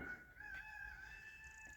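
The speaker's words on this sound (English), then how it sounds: "Enjoy the sound of the cockerel crowing." A rooster crows once at a distance, a faint drawn-out call in a quiet outdoor setting.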